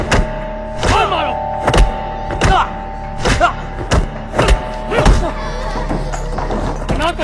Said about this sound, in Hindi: मारो इसे, और मारो।